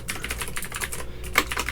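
Quick keystrokes on a computer keyboard while entering values in an OpenSCAD modeling session, a close, steady patter of clicks with one slightly louder tap near the end.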